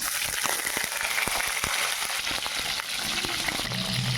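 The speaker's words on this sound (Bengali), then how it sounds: "এবার আমি এখানে কালো জিরে ফোড়ন দেবো, দিয়ে দেবো কাঁচা লঙ্কাগুলো" Black cumin seeds and green chillies sizzle in hot oil in a kadai, a steady close crackling fry with scattered pops throughout.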